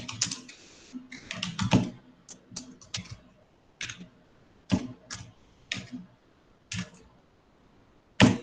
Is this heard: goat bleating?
no